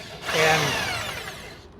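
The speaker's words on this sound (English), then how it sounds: "and drill this one hole," A half-inch power drill bores a hole through the steel frame of a 2019 Chevy Silverado during a C-notch job, giving a close, steady grinding whine that lasts under two seconds with no talking.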